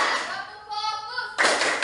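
Near the end, a burst of group hand clapping from schoolchildren in a classroom focus game, after a teacher's drawn-out chanting voice.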